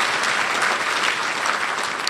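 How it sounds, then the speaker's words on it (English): Luncheon audience at a Rotary gathering applauding, a loud, dense round of clapping that holds steady for about two seconds. "Please give her another round of applause."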